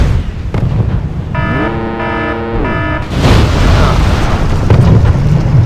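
A rocket explodes in a video game with a sudden loud, broadband blast about halfway through, coming right after a short run of stepped electronic tones, then a rough rumbling that lingers to the end.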